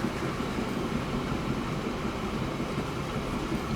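A train rolling along the tracks in the simulation game Transport Fever 2, a steady continuous rumble with wheel clatter that holds at an even level throughout.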